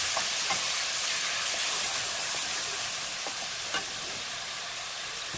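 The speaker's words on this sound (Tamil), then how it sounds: "இப்போ மீடியம் ஃப்ளேமில் வச்சு நல்லா வதக்கி விடுங்க." About three-quarters of a kilo of roughly chopped tomatoes sautéing in groundnut oil over a medium flame, giving an even, broad steamy hiss with a few faint clicks, no talking.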